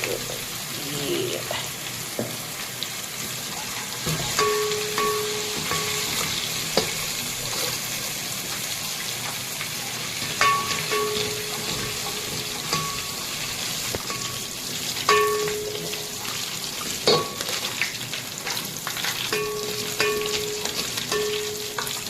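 Garlic-ginger paste frying in oil for beef karahi gives a steady, close sizzle, with occasional clinks and scrapes of stirring throughout.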